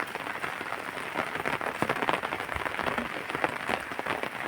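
Steady rain patters densely on a surface, an even hiss of drops close by with no voices.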